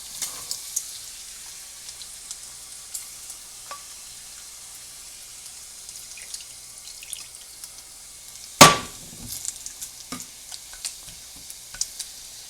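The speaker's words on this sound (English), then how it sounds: "you start to see a lot of like sizzling going on and a lot of liquid going on into this" Bacon frying in oil in a pan, a soft continuous sizzle with scattered small pops and crackles and one sharp loud burst midway.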